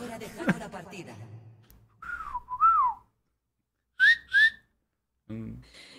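A person whistles short melodic phrases, a rising-falling tune and then two quick chirps, between stretches of talking and laughter.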